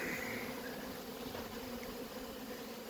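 Honey bees hum steadily around a hive in an apiary, a dense, continuous buzz holding at a low, even level throughout with no voices over it.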